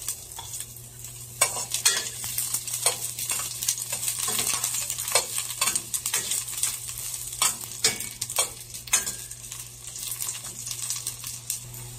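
Onion and garlic sauté in a pan for shrimp sinigang, giving a steady close sizzle broken by repeated scraping, stirring clatters throughout, with a low constant hum underneath and no talking.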